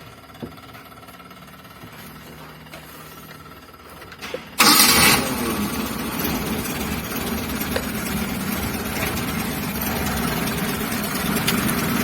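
A Suzuki T120SS motorcycle engine cranks and fires with a sudden loud burst, then settles into a rough, uneven idle that carries on close to the microphone, with no speech over it.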